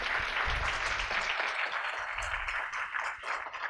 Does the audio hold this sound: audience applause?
yes